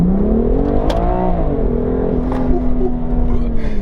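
A BMW M2 CS accelerates, its engine note climbing and holding in a loud, continuous drone heard close up, with no talk over it.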